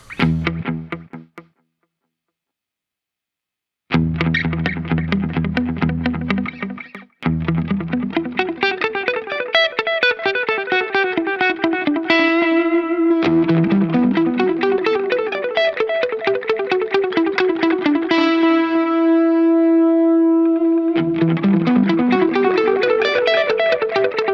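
An electric guitar plays distorted melodic phrases through a dotted-eighth delay pedal, with repeating echoes trailing each note, after a brief pause near the start.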